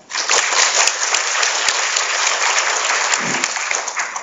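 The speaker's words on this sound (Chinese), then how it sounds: "那我们再次以热烈掌声谢谢" Warm applause from a seminar audience after a talk on big data analysis and Power BI in the public sector, a dense, steady clapping that holds at full strength throughout.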